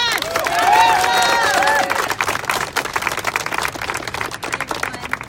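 An audience at a political gathering, The People's State of the State, breaks into a loud round of clapping with cheers and shouting voices at the start, then settles into steady dense clapping that runs on alone.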